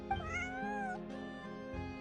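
A cat in the video game Genshin Impact gives one drawn-out, rising meow, close and clear, over a soft background music bed.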